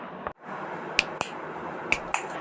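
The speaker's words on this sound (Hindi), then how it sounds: "चुटकी बजाते वक्त जो आवाज़ पैदा होती है उसे इंग्लिश में कहेंगे स्नैप द फिंगर्स" Fingers snapping four times in two quick pairs: sharp, crisp clicks standing out clearly against a steady low background hiss, with no one talking.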